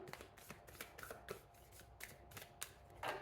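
Tarot cards are shuffled in quick, crisp riffling bursts, a rapid series of soft papery flutters and taps heard close and quiet with no speech.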